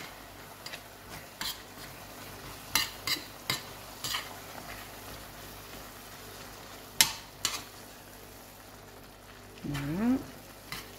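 Cauliflower chakchouka frying in a pan and being stirred, with soft sizzling under scattered utensil scrapes and clinks against the pan, then a louder scraping stir near the end.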